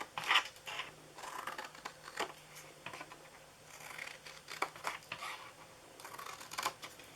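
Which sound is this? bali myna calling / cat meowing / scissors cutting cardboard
scissors cutting cardboard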